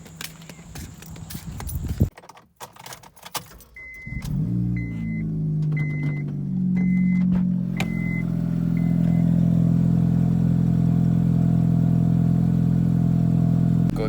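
An Acura CLS6 car comes to life after a few clunks and a string of short warning chimes, then its engine settles into a loud, steady low drone that builds slightly and holds close by with no talking.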